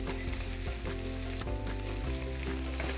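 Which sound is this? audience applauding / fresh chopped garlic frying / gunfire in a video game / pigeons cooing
fresh chopped garlic frying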